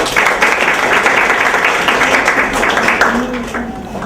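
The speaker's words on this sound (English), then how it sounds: "we welcome Jordan Bish with a big round of applause" An audience at a marketing strategy lecture claps to welcome the speaker, a loud sustained applause that fades slightly at the end, with a voice speaking underneath.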